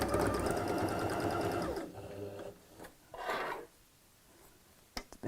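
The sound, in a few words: sewing machine stitching a tote bag together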